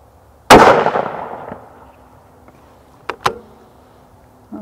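A Mossberg MPV Light Chassis rifle fires a single sharp, loud report that decays quickly, followed a few seconds later by a couple of quieter metallic clicks from the action.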